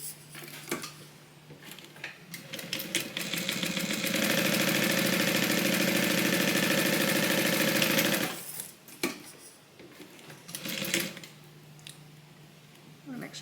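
A sewing machine top stitches a Bible cover in one steady, fast mechanical whirring run of about four seconds, close and loud, framed by quieter handling noises and short stitch bursts, with a person talking.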